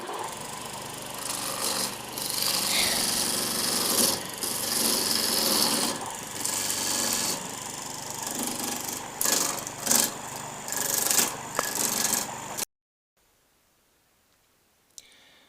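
A lathe chisel cuts a wet pine ball as a continuous rasping, scraping noise with surging bursts, loud and close for about twelve seconds, then it stops abruptly into near silence.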